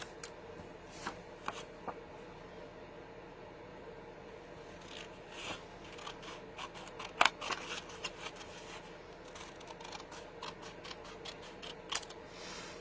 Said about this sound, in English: did mention you need scissors, right?